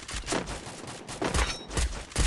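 Rapid bursts of automatic gunfire in the battle-royale game Free Fire, several loud volleys separated by short gaps, close and dominant with no talking.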